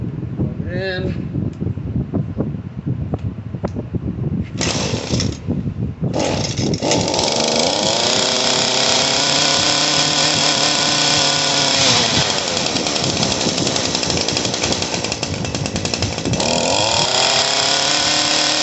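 An Echo PE-200 engine runs after a carburetor and spark plug repair, loud and close, sputtering and revving unevenly at first, then settling into a steady, high buzzing drone with rising and falling revs.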